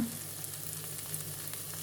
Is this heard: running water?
no